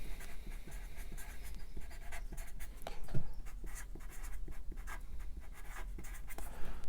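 Pen scratching steadily across paper while annotating a helicopter rotor blade drawing, a close, continuous dry scribbling with short strokes and brief pauses, faint and alone.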